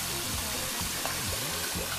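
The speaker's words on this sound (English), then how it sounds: "Pour the cold water over it." Cold tap water runs over boiled eggs in a kitchen, a steady close rush of flowing water with no talk over it.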